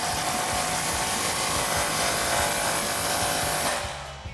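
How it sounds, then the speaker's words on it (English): Impact wrench fitted with a 15mm socket tightening the muffler clamp on a 2021-2024 Ford Bronco cat-back exhaust, a steady loud buzzing rattle held for several seconds, then cutting off near the end. "now we have our clamp for our muffler section. Same thing, impact and 15mm socket."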